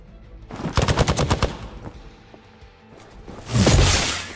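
Rapid gunfire bursts from a Marvel video game: a loud run of evenly spaced shots in the first second, then a quieter stretch and a heavy blast or whoosh near the end.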